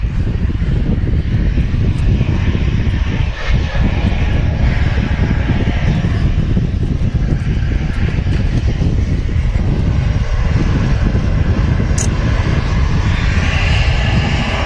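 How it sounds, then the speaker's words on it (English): An Airbus A330 airliner takes off from runway 23 right at Manchester Airport, a loud, continuous engine roar held close and powerful for the whole stretch without fading, with no talk over it. "We'll turn the volume up nice and loud for you guys to enjoy this A330 blasting off 23 right"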